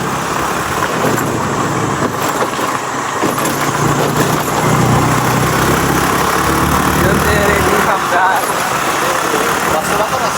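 A vehicle's engine hums steadily as it drives along a road, with constant road noise and occasional voices underneath.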